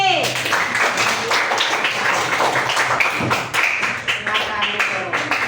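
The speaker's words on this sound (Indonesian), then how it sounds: "Berikan aplaus lagi." Applause in an Islamic lesson class, steady clapping throughout that stays loud and close, mixed with taps and thumps.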